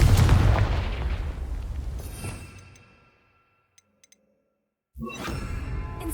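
A Confringo blasting spell explodes in Hogwarts Legacy with a loud, booming blast that rumbles for a couple of seconds and fades into near silence, broken by a few tiny clicks before another loud burst of action noise cuts in.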